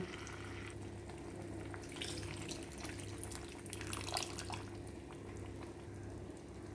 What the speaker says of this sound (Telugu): చింతపండు పులుసుతో పాటు ఒక గ్లాసు నీళ్ళు కూడా వేసుకుంటున్నాను